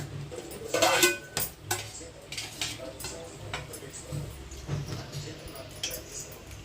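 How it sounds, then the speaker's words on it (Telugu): Horse gram rasam is ladled onto rice at home, with clinks of a metal ladle and utensils against a plate, soft wet pouring and squishing, and a voice speaking in the background. "రసం వేసుకుంటున్నా"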